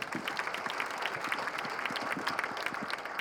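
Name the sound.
applause at a meeting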